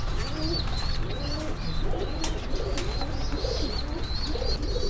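Pigeons coo at a fancy pigeon farm in Tangail, including a male Meghpai: several soft, throaty, rolling coos overlap close by in a steady chorus over a constant low background hum.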